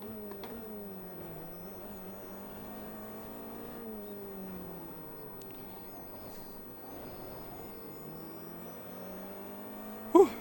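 Race car engines in the Automobilista 2 sim during a Le Mans endurance race, a BMW close behind: a fairly quiet, steady engine drone with gently rising and falling revs, no voices.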